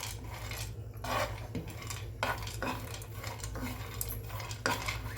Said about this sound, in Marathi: आपण याला थोडंसं हलकंसं भाजून घ्यायचं